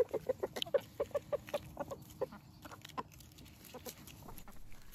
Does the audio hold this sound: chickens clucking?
yes